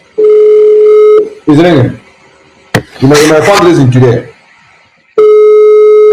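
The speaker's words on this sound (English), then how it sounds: "It's ringing." A telephone ringing tone sounds during a call at a campaign event, with a loud, steady single tone at the start and another at the end, and someone speaking loudly in between.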